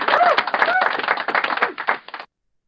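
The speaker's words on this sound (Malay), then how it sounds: "cikgu kena bagi tepukan ni" A teacher claps hands rapidly in a Year 5 maths classroom, giving a burst of dense, sharp claps lasting about two seconds, loud and close before falling silent.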